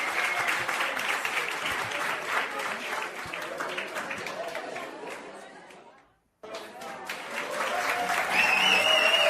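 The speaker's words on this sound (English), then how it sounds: "And please get a round of applause." Audience clapping and chattering for several seconds, fading out to a brief silence before applause and voices swell back loudly.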